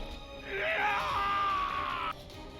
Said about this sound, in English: the screams of the bandits could be heard